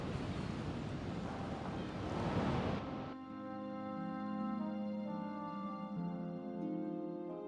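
Wind at sea before a sailing voyage in The Elder Scrolls Online, a broad loud rushing gust that gives way to a softer airy wash under sustained musical tones.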